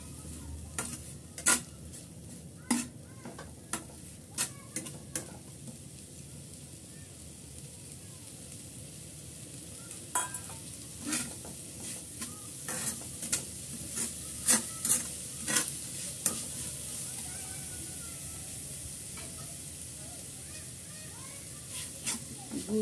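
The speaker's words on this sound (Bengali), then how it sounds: "আমি নেড়ে চেড়ে মিক্স করে আমি একটা নারকেলের পুর তৈরি করে নিচ্ছি।" Jaggery and coconut filling cooks in a pan over a flame, giving a soft background sizzle punctuated by repeated scraping stirring strokes that come in irregular bursts.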